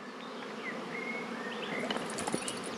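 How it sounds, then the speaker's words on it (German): Bees swarm and buzz outdoors on a sunny countryside hike, a dense continuous drone of many insects close by, with no talking over it. "Wie hier die Bienen schwärmen."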